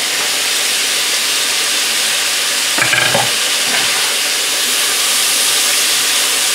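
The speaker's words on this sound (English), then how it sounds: "Now we'll drop in our veggies." Vegetables hit a hot pan seasoned with pepper and sweet ginger garlic seasoning, giving a loud, steady sizzling hiss with a brief clatter and burst of crackle partway through.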